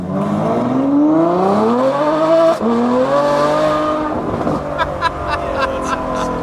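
A high-revving Ferrari V12 engine screams up through the gears, pitch climbing and dropping with each shift, loud and close, with brief crackles at the end.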